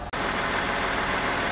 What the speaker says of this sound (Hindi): इस वक्त ये गाड़ी बिल्कुल स्टार्ट है